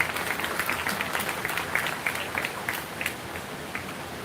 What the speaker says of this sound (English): give all our market exhibitors a nice hand for a job well done